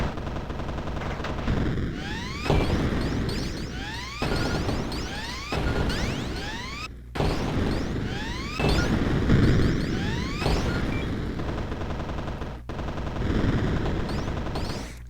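Explosion and rapid-fire blasting from the arcade-style game Toad On Fire, in repeated loud bursts of gunfire-like popping and crashing with sweeping whooshes, looping steadily throughout with no voices.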